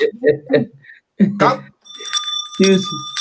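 A bright bell rings with sustained metallic tones after bursts of speech, sitting near and clear as the voice pauses and resumes.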